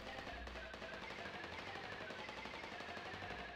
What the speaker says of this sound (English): Can I shoot this? I can!